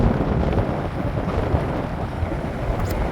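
Cold wind gusts near a hydroelectric dam in Italy, buffeting the microphone with a constant rough rumble and hiss throughout, loud and close, with no one talking.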